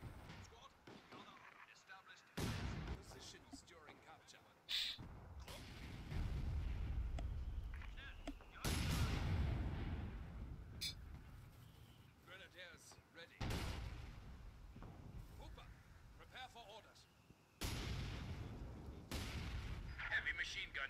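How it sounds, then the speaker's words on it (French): Mortar fire in the video game Company of Heroes 2: heavy booming blasts recur every few seconds, each with a rumbling decay, mixed with other battle sounds and occasional voices. "Mec, il défonce à coup de mortier quoi."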